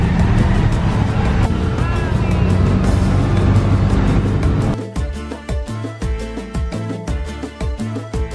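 Tuk-tuk ride through heavy traffic on the road to Huacachina, Peru: a loud droning motor and road rumble, then rhythmic engine pulses as it changes pace, with some voices faintly mixed in.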